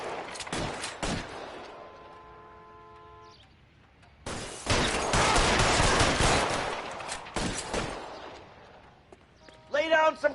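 Gunfire in the L.A. Noire video game: a few close shots early, then a long loud stretch of sustained firing and crackling bursts, with voices shouting between volleys.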